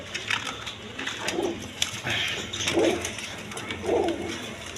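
A pair of black shirting pigeons on a farm coo in low, repeated throaty calls at a moderate distance, with light rustling and shuffling noises around them.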